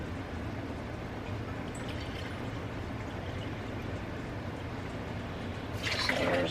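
Apple cider vinegar pours into a measuring cup with a soft, steady liquid trickle under faint room noise, ending in a brighter splash at the close.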